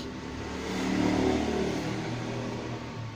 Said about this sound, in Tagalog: bubuksan natin ang mahina din yung blower